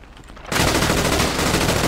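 Rapid automatic gunfire erupts inside a building called Raksa, starting abruptly after a quiet half-second and continuing as a loud, dense, unbroken burst of shots.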